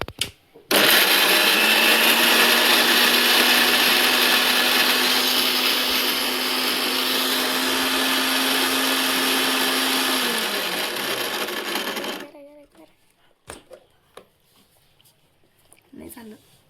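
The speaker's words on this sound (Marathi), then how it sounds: "आता आम्ही बीटला बारीक करून घेत आहे." A blender grinds beetroot with a loud, steady whir that runs for about eleven seconds, slows with a falling pitch and stops, followed by a quiet room with faint clinks.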